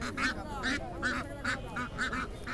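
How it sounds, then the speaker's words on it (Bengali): Several ducks quack repeatedly in a quick, uneven rhythm close by at a village market in Naogaon, Bangladesh, their nasal calls overlapping against a busy background murmur. "হাঁসের প্যাক প্যাক সাউন্ড দেখেন কত হাঁস নিয়ে এসছেন"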